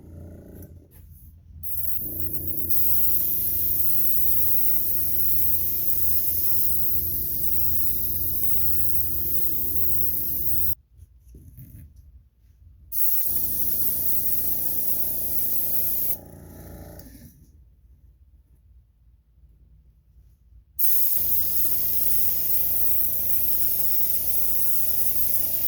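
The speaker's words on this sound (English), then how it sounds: "so now we're doing a second coat, really get that spark, that gold to shine." A spray can lays a second coat of gold paint on a Star chopper motorcycle part, giving long, loud, close hissing bursts broken by short pauses and a longer gap between sprays.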